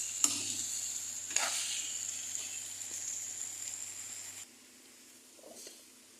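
Dried shrimp frying in a pan, giving a soft continuous sizzle and hiss with a couple of sharp stirring clicks, after which the sizzle drops to a quieter level.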